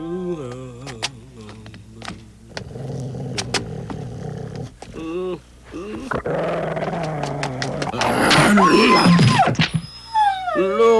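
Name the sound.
dog growling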